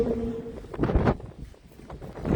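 Loud gusty wind rumbles and thumps against the microphone on a rooftop during a snowstorm, in uneven bursts, with a brief faint tone at the start.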